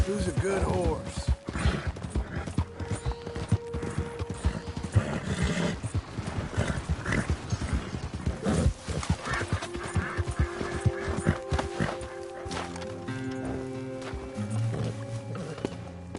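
Horse in the video game Red Dead Redemption 2, hooves clip-clopping steadily with occasional snorts, set against game ambience and tonal music.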